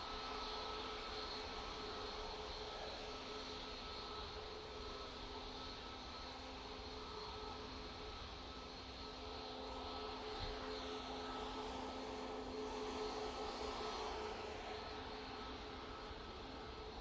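A TUI airliner departs Manchester Airport bound for Palma de Mallorca, its engines a steady, distant roar with a broad rumble and faint high whine holding evenly throughout, with no voices.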